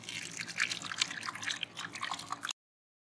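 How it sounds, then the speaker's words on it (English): Vinegar poured from a container into a plastic bottle for a baking soda rocket experiment, a brief splashing, trickling pour lasting a couple of seconds, close by and fairly quiet, then silence. "pour the vinegar into the bottle"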